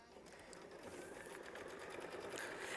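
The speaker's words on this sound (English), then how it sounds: "we're going to go ahead and stitch out the quilting, which will be machine stitch step 26" A sewing machine stitches out quilting on a quilt block with a faint, steady whir and a rapid needle patter that runs on without pause.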